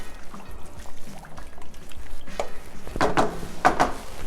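Vegetable stock poured into a cooking pot, a quiet liquid pour that swells into a few louder splashing bursts toward the end, with no talking.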